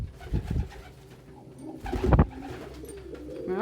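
Pigeons coo in a loft, soft low throaty calls repeating close by against light background rustling.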